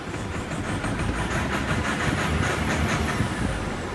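A 1.9-litre diesel common-rail pickup engine runs at close range with a steady, loud mechanical drone and rapid pulsing under a faint high whine, revved only gently and without any voices.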